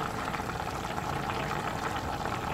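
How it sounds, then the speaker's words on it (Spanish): A pot of chicken stew boils hard, a steady dense bubbling and simmering hiss that runs continuously at close range, with no talk over it. "Miren cómo hace plop, plop, plop, plop, plop, hirviendo a toda gabela."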